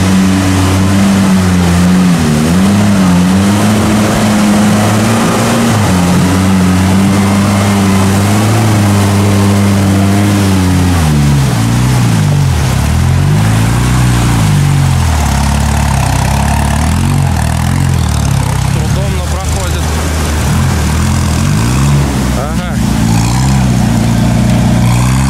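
An off-road vehicle engine running loud and close while driving over overgrown terrain, a continuous heavy drone whose pitch rises and falls as it revs and strains.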